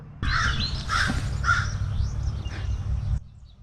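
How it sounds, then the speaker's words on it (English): Crows cawing nearby, three loud harsh caws in a steady rhythm followed by softer, more distant calls, over a constant low hum. "About to throttle them crows if they don't get the hell out of here."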